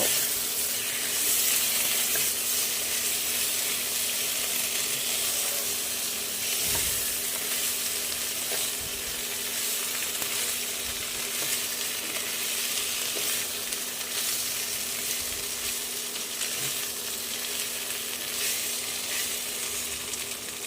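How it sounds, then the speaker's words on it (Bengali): Spice paste fried together with potato and pointed gourd pieces gives a steady, close sizzle that runs unbroken throughout, with occasional soft scrapes and thuds as the mixture is stirred in the pan. "মশলাটা খুব ভালো করে আলু আর পটলের সাথে মিশিয়ে নেব"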